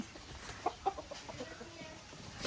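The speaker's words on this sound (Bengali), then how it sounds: "বাগান আছে প্লাস মুরগির খামার, মুরগিগুলা এগুলো দেখতেছি" Chickens at a poultry farm near Cox's Bazar give a few soft, brief clucks over quiet outdoor background noise.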